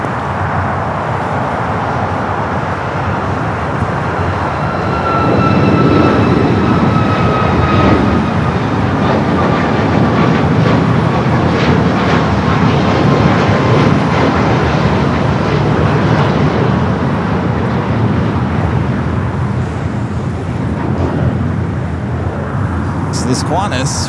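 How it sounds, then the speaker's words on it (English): An Alaska Airlines Boeing 737 MAX 9 takes off at Los Angeles International Airport, its jet engine roar swelling after a few seconds into a broad, sustained rumble heard from a distance. "Next takeoff, Alaska, flight 13 to 26, and 737 at MAX 9,"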